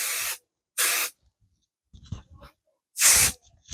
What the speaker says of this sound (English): I'm going to just use some basting adhesive spray just to